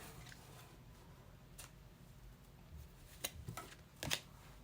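A deck of tarot cards is shuffled quietly, with soft riffling and a few crisp card flutters and snaps that grow more distinct toward the end.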